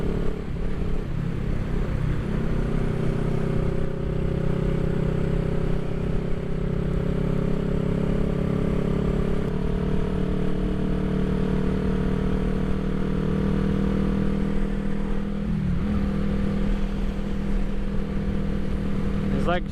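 A 1975 Honda CB360T motorcycle engine running steadily while being ridden, a loud, continuous droning hum with a low rumble and faint clatter, holding an even pitch that shifts slightly partway through, close up throughout.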